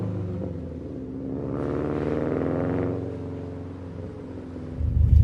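Steady, deep exhaust rumble from a Subaru STI driven on a cold day, swelling slightly in the middle then settling, close and loud with no talk.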